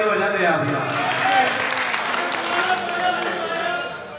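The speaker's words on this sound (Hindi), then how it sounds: "थोड़ा ताली वाली बजा दे आप यार" Steady audience applause at an All India Mushaira in Saharanpur, a dense wash of clapping at close range that tapers slightly toward the end, with some talk underneath.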